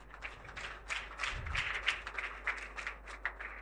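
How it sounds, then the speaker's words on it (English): Audience clapping at a secondary school debate competition, heard as uneven bursts of hand claps with occasional thumps, fairly close and lively, without a steady rhythm. "Keep clapping, don't get tired."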